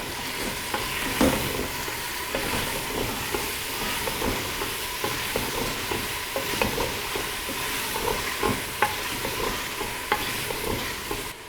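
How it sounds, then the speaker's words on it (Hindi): Chicken feet fry with tomatoes and spices in a pan, a dense crackling sizzle punctuated by repeated scrapes and knocks of a stirring spoon, close and continuous. "पंजों को हम टमाटर के साथ 3 से 4 मिनट भून लेंगे ताकि तमाम मसाले पंजों में जज्ब हो जाएं"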